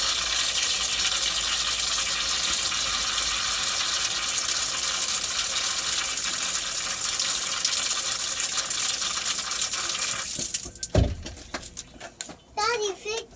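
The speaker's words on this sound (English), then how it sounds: "Going to rinse it out so we don't have residue from the last test." A water test container is rinsed out for an iron filter check, a steady close rushing gush of running water that ends abruptly, followed by scattered clatter, a voice and talking.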